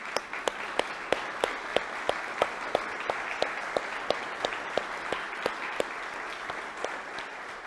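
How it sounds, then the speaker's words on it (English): A parish meeting audience gives lay leaders a warm round of applause, a steady wash of many hands clapping with one nearby clapper's crisp, evenly spaced claps standing out in front. "I wonder if we could give a warm round of applause for those,"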